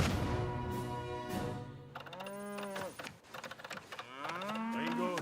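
Several cattle moo loudly and close by, long drawn-out calls that overlap and rise and fall in pitch, with a brief gap midway before more lowing follows.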